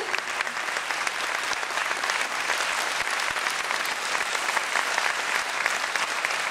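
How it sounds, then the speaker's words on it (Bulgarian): Guest tango dancers at a dance school evening receive sustained, dense applause from a large audience, loud and even throughout with a faint crowd murmur beneath. "Аплодисменти към нашите гостенки"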